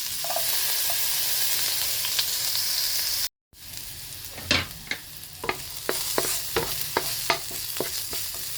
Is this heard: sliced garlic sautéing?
yes